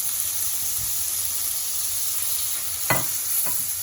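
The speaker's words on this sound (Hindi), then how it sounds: "थोड़ा सा भूने मसाले को।" Crushed chilli, black pepper and Chinese salt sizzle in butter and garlic in a frying pan, a steady broad hiss with a couple of brief scraping stirs near the end, close and alone with no talking.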